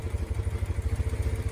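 A 1960s-70s faired motorcycle engine runs close by with a steady, pulsing low throb and a fast regular beat, loud and alone.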